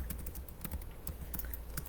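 Rapid typing on a computer keyboard, a quick irregular run of light key clicks, close and fairly faint, with no voice over it.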